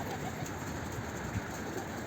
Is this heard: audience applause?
no